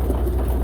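A van engine runs steadily while towing a trolley, giving a continuous close, low rumble with no breaks.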